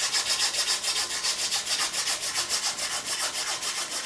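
Fine 600 grit abrasive rubbed back and forth over the bevelled fret ends of an Epiphone Dot guitar, a close, steady rhythmic scratchy rasp of quick strokes with no talk.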